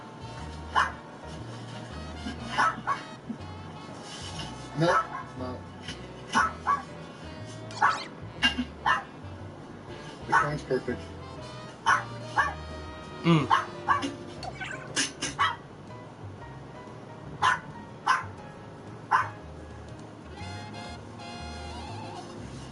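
A small dog barks and yips repeatedly in short sharp bursts, spaced irregularly across the stretch, fairly close, with occasional whimpers and a brief word of talk in the background.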